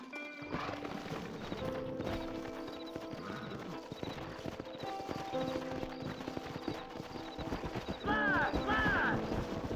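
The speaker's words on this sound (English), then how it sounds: "Horses are over here!" In the video game Red Dead Redemption, steady clip-clopping hooves of horses walking, with a horse whinnying near the end over a dense, busy background.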